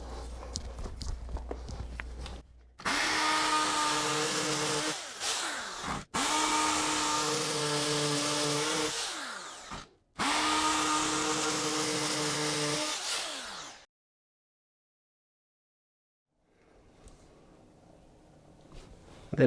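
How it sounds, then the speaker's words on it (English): A power drill whines in three long bursts separated by short pauses, then stops, leaving a quiet stretch and faint low background noise. "So here goes with the second drilling."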